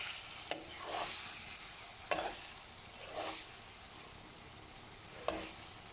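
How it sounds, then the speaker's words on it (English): Onions sizzle steadily in a pan for a homestyle chickpea curry, with a few sharp scrapes of stirring at intervals over the continuous frying hiss. "cover and let the onions soften down and cook"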